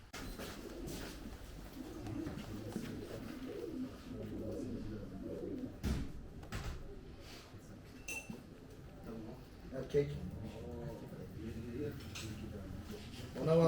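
Pigeons of the Jumbo, Şebap and double-crested breeds coo repeatedly at a table release in Gelibolu, soft throaty calls rising and falling under men chatting nearby, with occasional clinks.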